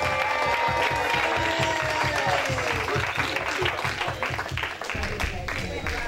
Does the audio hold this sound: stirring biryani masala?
no